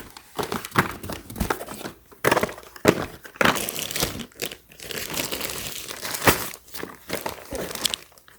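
Packing paper crinkles and crumples up close during the unboxing of medical supplies, in irregular rustling bursts with brief quiet pauses and no talking.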